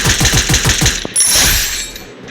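Gunfire in the Free Fire mobile shooter game: a rapid automatic burst of about half a dozen sharp shots in the first second, then a loud hissing wash of noise that fades out.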